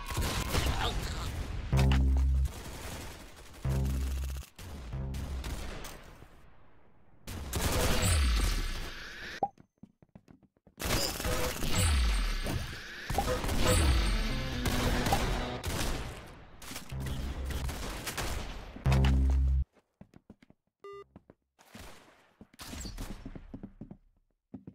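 Bursts of rapid gunfire from a video game shooter come in dense, loud volleys with short gaps between them, ending in a quieter stretch.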